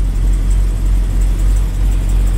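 Hellcat-swapped Dodge Dakota pickup on air ride accelerating hard: a loud, steady low engine roar and drone that stays strong throughout, with no talk.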